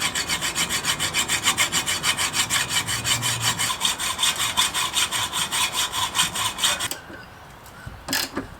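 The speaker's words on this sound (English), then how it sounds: "I'm gonna get a hacksaw and cut this little" A hacksaw cuts a small metal ring out of an old suspension bushing on an E36 BMW, rasping in quick, regular back-and-forth strokes that run for about seven seconds, then stop, followed by a brief scrape.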